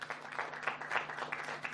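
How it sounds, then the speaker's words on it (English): Audience applause at the India Pavilion opening at the Cannes Film Festival, a fairly quiet, steady patter of many hands clapping, short and sustained without voices. "A big round of applause for Deepika."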